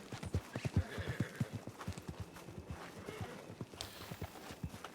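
Horse in a Western-style video game, rapid clip-clop of hooves in a quick galloping rhythm with a whinny, fairly close and clear, under light talk.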